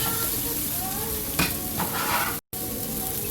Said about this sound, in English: Let the butter melt and I'm going to throw the cabbage in there.